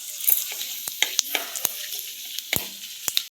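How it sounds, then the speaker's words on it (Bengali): Whole spices including a cinnamon stick, cardamom and bay leaf fry in hot oil in a wok, giving a steady close sizzle broken by sharp crackles and pops, with no talking. "ভালোভাবে ভেজে নেব।"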